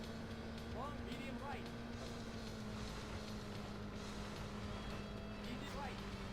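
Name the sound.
rally car engine at full throttle, Sega Rally video game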